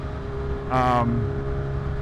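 A supercharged 2023 Kawasaki H2 with a full titanium Van Diemen exhaust, an H2R replica, rides on a freeway and gives a brief rising engine surge at half throttle over steady wind rush.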